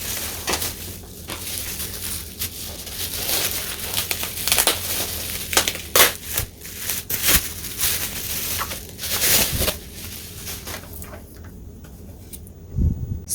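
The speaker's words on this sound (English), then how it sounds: "I'll go ahead and unwrap the bubble wrap on the laminator itself" Bubble wrap being unwrapped from a newly unboxed laminator, heard as a steady run of close, dense crinkling and crumpling with sharper bursts, ending in a few isolated rustles.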